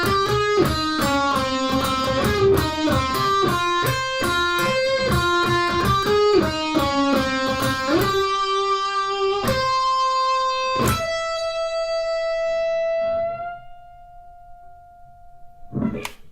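Electric guitar playing a solo, a fast run of picked notes ending in a bend up to a high F that rings out and fades, loud and close with no voices.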